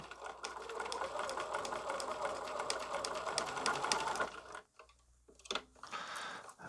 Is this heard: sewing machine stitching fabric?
yes